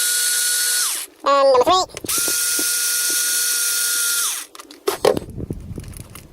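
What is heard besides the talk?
removing RC car motor bolts with a 2mm hex driver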